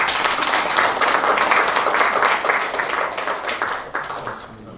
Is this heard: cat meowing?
no